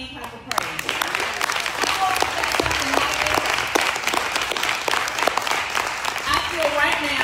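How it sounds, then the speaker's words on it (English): A church congregation claps hands in praise, steady loud applause filling the room for the whole stretch, with voices and cheering mixed in. "let's give God a hand clap of praise"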